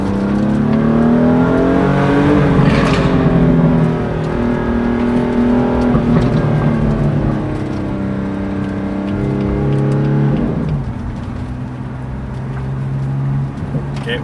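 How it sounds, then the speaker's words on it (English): A 2018 BMW M4 Ultimate Package in Sakhir Orange II revs its exhaust in a road tunnel. A loud, booming engine note rises and falls, with reverberant pitch sweeps as it accelerates and a trailing drone, and a voice appears briefly. "We got some nice tunnels here. Just give it a little bit of gas."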